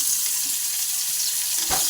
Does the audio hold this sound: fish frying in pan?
yes